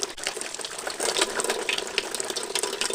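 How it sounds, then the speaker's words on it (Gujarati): Hot water from a motor-fed tap gushes steadily for washing the face on a cold morning at home, a continuous close splashing rush with no voices. "મોટરનું ગરમ પાણી આવે છે. ગરમ પાણી આવે ગરમ પાણી મોટું મોટું ધોઈ નાખી"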